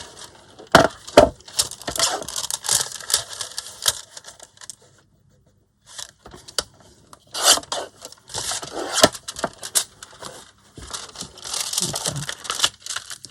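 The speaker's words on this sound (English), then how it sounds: "I'm going to have to just trim off this a bit first" Paper being trimmed for a window envelope insert, with crisp snips, rustles and scraping in irregular bursts, a brief near-silent pause in the middle, then more cutting and handling close by.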